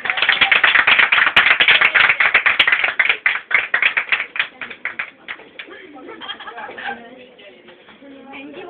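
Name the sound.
loud applause for the teacher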